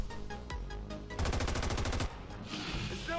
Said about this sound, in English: Let's check out these machine guns.